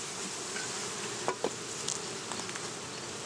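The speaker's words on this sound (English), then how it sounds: "Today the bees are making quite a bit of noise, which tells me that they're not very happy." Honeybees in an open hive give a steady, dense buzzing hum throughout, with a few louder individual bees passing close by.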